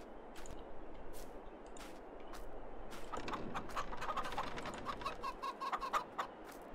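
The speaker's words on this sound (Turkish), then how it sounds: "Şurada tavuklarımız falan da var artık." Backyard chickens cluck in short, scattered calls over steady outdoor background noise at a rural garage build site, moderately distant with no talk.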